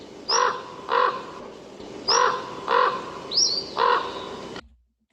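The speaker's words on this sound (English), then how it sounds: "And the raven a little lower pitched." A common raven calls six times with deep, lower-pitched croaking caws. The calls come in spaced pairs over a steady background hiss and sound fairly close.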